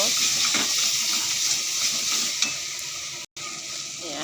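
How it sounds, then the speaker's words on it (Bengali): Spice paste with salt and turmeric fries in a pan for a fish-head curry, giving a steady close sizzle and hiss with scraping stirs throughout, and a brief dropout near the end. "এটা দিয়ে মশলাটাকে ভালো করে কষিয়ে নেব"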